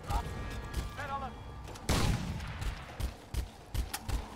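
A grenade blows up in the video game Crysis 2 Remastered, one loud blast followed by scattered gunfire-like cracks. Game voices can be heard around it.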